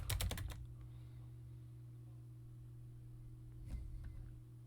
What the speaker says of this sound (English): and type in the password.